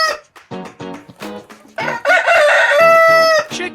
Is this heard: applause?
no